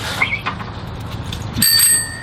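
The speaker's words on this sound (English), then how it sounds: "At least the bell works." A bicycle bell rings in one bright, loud burst near the end, after a few quiet seconds of low background noise.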